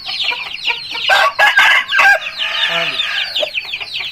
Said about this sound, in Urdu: انتہائی خوبصورت اچھا اصیل مرغا